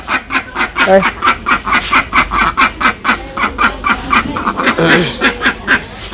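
A flock of ducks quacks rapidly at feeding time in a steady, overlapping chorus, close by, with a voice calling them over the noise.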